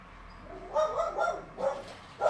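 A few short dog barks at moderate distance, three or four yaps in quick succession over faint background noise.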